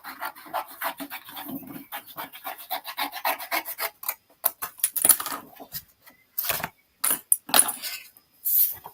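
A paper trimmer slices cardstock for a Stampin' Up! card project, making close, repeated rasping strokes and scrapes in quick bursts, broken by short pauses and a few clicks.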